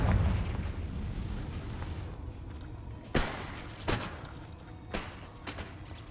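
Confringo fire spell blasts in Hogwarts Legacy as several booming explosions, one louder burst at mid-clip followed by smaller pops, over a rumbling battle background.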